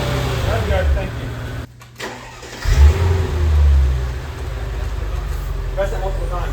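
A car engine, during repair work on its ABC valve blocks and tandem pump, is briefly revved to about 2,000 RPM, a mid-pitched rising and falling roar over a steady idle, with people talking nearby.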